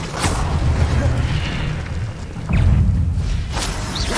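Incendio fire spell in Hogwarts Legacy, two or three loud booming bursts with crackling flare over a dense low roar of game ambience, close and forceful.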